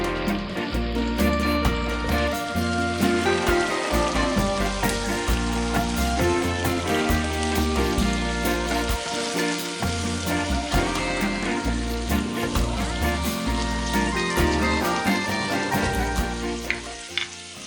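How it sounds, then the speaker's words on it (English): Tomatoes sizzle and fry loudly in a hot pan for Turkish menemen, a dense continuous crackle of bubbling oil and juice close up with occasional stirring noises. "now I will wait for tomatoes to be cooked and I will mix them a few times"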